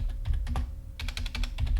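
Keys clatter on a computer keyboard in quick irregular bursts, fairly close, with a brief pause midway and then a denser run of keystrokes.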